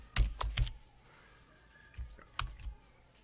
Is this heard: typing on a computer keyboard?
yes